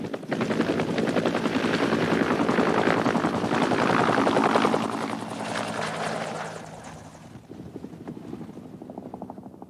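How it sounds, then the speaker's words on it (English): A US Army Cobra attack helicopter flies overhead with loud, dense rotor chop and engine roar that builds, peaks, then gradually fades as it moves away, leaving a fainter rhythmic beat at the end; no talking. "the Cobra helicopter developed for air attacks in Vietnam was a quiet helicopter"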